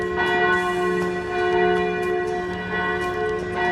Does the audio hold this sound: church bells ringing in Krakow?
yes